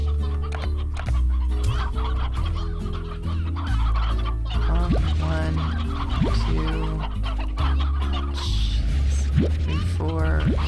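Hens clucking in the farming game Slime Rancher, with repeated clucks and squawks over steady background game music, while someone talks throughout.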